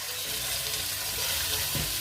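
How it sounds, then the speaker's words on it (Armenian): Pieces of beef frying in olive oil, giving a steady, dense sizzle that fills the whole moment without a break. "on vient les faire frire dans l'huile d'olive."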